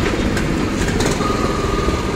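A water pump engine lowered into the Pasig River at the Esplanade runs steadily, a constant rumbling drone with no pauses across the stretch.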